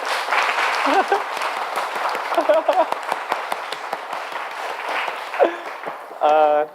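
An audience at a church gathering in Paris claps for a young interpreter's debut, scattered applause running under a voice, ending with a short burst of tonal sound.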